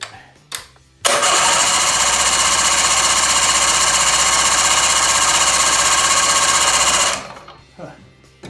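A 20 hp Mercury outboard with a freshly rebuilt carburetor, choked and primed, catches after a couple of short cranking bursts and runs loud and buzzing for about six seconds before cutting out; faint talk comes before and after.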